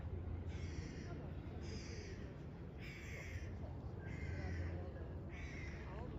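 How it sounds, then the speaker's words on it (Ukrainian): Gulls call in Mont-Royal park in Montreal. Five or six harsh, drawn-out cries repeat at a steady pace, faint and distant over a low outdoor hum. "Значить, моря тут немає, але чайки тут є."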